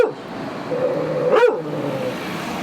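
A dog barks and growls outdoors at passing traffic, its sharp close barks sounding over a steady road rumble as a vehicle swells loudly past midway and then fades.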